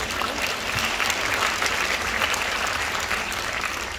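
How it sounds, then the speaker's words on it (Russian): Audience applause fills a forum hall in Moscow after a speaker's talk: dense, steady clapping from a large crowd, sustained evenly for four seconds with no voices on top. "от вас аплодисменты"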